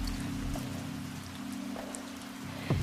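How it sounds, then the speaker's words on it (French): Steady rain falls and patters on surfaces in a small town, a continuous even hiss with scattered drops under a low hum, ending in a brief louder knock. "Il pleut toujours autant dans la petite cité d'Azay et le Cher déborde."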